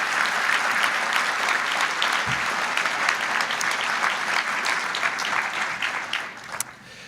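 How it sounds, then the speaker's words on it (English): Sustained round of audience applause for students and parents at an anniversary recognition event, a dense, even wash of many hands clapping from a sizable crowd, fading slightly near the end. "So let's give all of our students and parents a big round of applause."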